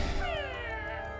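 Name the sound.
cat meowing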